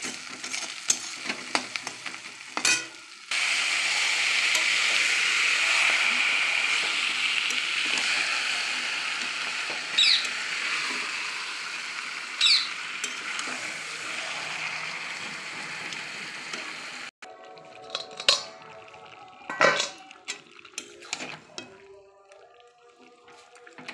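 Duck meat tipped onto fried onions crackles in a steady hiss of frying while it is stirred, with occasional scrapes. The sizzle then drops sharply, leaving clattering stirring and brief talk.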